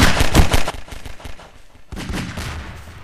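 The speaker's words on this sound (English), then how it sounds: "Why is everything exploding?" Explosions in the sandbox video game Garry's Mod crack and boom in quick succession, a dense volley of loud blasts, then a short lull before another burst.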